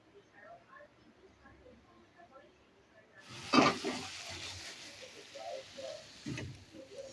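Quiet talking, then a burst of hissing as prawns hit hot oil in a wok, settling into a continuous sizzle with a few clatters.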